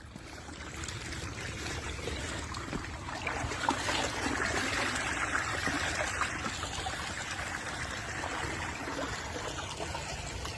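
Irrigation water trickles and flows into a rice field through an opened bund of old mud-filled sacks, a steady soft outdoor gurgle without speech.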